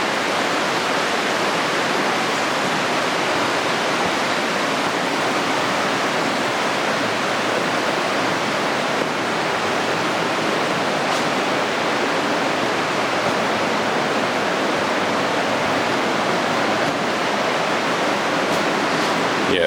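A calm, shallow stream on a West Coast fossil hunt flows with a constant even hiss and gentle rush, unbroken and fairly loud, with no voices over it.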